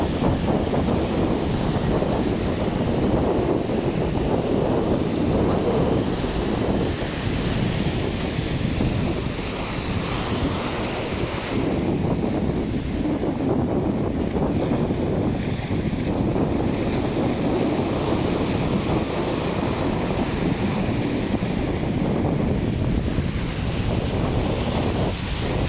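Sea waves wash onto the shore at La Mata in a continuous roar, with heavy wind buffeting the microphone throughout.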